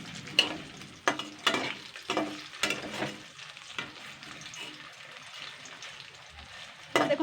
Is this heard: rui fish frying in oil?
yes